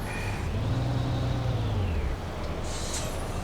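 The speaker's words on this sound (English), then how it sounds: "Hit the brakes a little bit harder there." Air brakes hiss and a heavy truck engine drones as the rig slows in Euro Truck Simulator 2, a steady close rumble with a brief hiss burst near the end.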